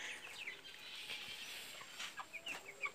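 Free-range broiler chickens cluck and peep in a small flock of about twenty, close by, with a few sharper chirps toward the end and no talking.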